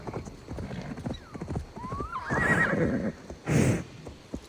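Horse hooves clip-clop steadily in Assassin's Creed Valhalla, a whinnying neigh rising clearly over them partway through, with a second louder burst of horse noise near the end.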